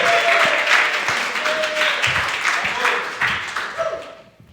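An audience at a comedy competition in Alpharetta applauds and cheers for a comedian taking the stage, loud continuous clapping with a voice heard over it, fading near the end.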